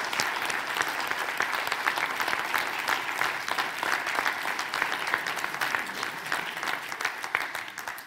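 Sustained applause from an audience at a junior chef competition, dense and steady clapping filling the room for several seconds without a break.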